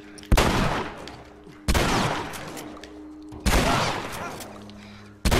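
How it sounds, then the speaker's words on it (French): Gunshots in The Last of Us Remastered on PlayStation 4: three loud, sharp reports spaced a second or two apart, each followed by a decaying echo tail, with no talking. "Je vais courir un peu histoire de lui mettre une balle."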